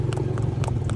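Horse hooves clip-clop in a steady, quick rhythm close by over a constant low rumbling hum.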